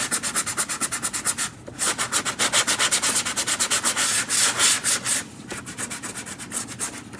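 A wooden 3D tree is sanded by hand with quick, even back-and-forth strokes, a loud rhythmic rasping that runs steadily with brief pauses and no talk.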